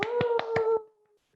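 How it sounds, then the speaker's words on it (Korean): Five quick, evenly spaced hand claps during an online sit-in for an anti-discrimination law, sharp and close, over a steady tone that fades out after the last clap. "한번 박수 한번 크게 치고 시작해 볼까요?"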